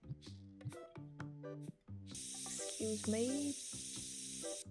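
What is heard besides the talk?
spray bottle being used in a card shop simulator video game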